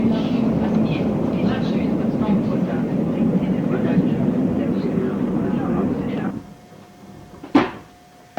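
A train rumbles steadily along a Swiss Alpine mountain railway near Pontresina in winter for several seconds, then fades away, leaving quiet with a brief clunk near the end.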